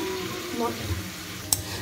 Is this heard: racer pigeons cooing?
no